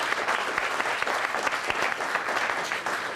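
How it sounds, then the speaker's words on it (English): A round of applause at a scholarship reception, a dense, even patter of many hands clapping throughout with small individual claps poking through. "And a round of applause."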